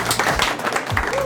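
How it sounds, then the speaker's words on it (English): Applause from a small audience at a cooking school kitchen class, a short patter of scattered clapping, fairly close, mixed with voices speaking underneath. "a nice round of applause for Erin here"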